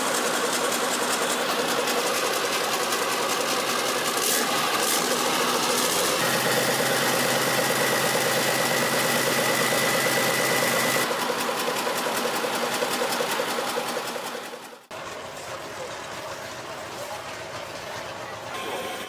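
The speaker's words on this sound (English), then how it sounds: "four-stroke diesel engine with 12 cylinders arranged in a compact 60-degree V configuration" A large four-stroke 12-cylinder diesel engine in a 60-degree V layout running with a loud, dense mechanical chatter, shifting in tone partway through, briefly dipping, then settling into a steady beat.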